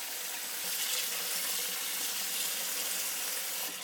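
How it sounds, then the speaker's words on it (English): Cold tap water runs steadily over cooked yakisoba noodles in a sink, a continuous close hiss and splash lasting several seconds with no talk. "Drain them. Rinse them with cold water."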